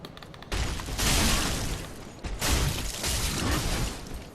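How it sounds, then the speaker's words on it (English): Dense, sustained crackling bursts of fireworks in the video game Dark Souls 3, loud and close, with a brief lull before a second long volley of popping and rumbling. "you're going to hear some fireworks as well"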